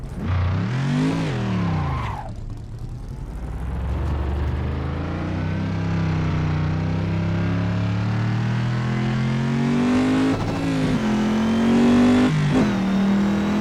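A Holden A9X race car engine in Assetto Corsa on the 1976 Bathurst track roars loud and close, revs climbing and falling through several gear changes, with a sharp drop near the start and quick shifts later on.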